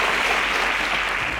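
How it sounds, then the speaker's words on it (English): A quiz show audience claps in a steady, dense burst of applause, brief and continuous with no voices over it. "Please a round of applause for all"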